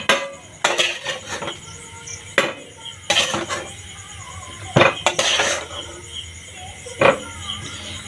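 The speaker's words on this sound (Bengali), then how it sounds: "এখানে আলুটাকেও তুলে নেব একটা থালাতে" Fried potatoes for a home-style chicken biryani being lifted from the pan onto a plate, with sharp metallic clinks and scrapes of utensil against cookware in irregular bursts, close by.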